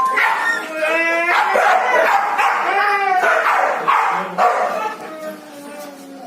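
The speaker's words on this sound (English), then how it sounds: "the dogs are impatient and demanding food" A pack of shelter dogs awaiting feeding bark, yip and whine close by, an overlapping chorus of insistent calls that goes on continuously.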